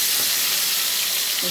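Chicken pieces fry in a little oil in a pan with a loud, dense, continuous sizzle that stays steady through the brief moment.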